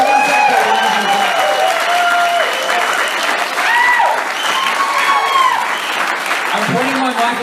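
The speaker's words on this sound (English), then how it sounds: "Give yourselves a round of applause." Live podcast audience in Portland applauding loudly and steadily for the full stretch, dense clapping with some crowd cheers and voices mixed in.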